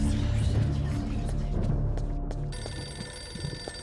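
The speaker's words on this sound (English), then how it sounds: "Can someone answer the phone, please?" An old-fashioned telephone bell rings repeatedly in the horror video game Eternal Darkness, loud and close over a dense backdrop of game sound, then gives way to a steady tonal hum.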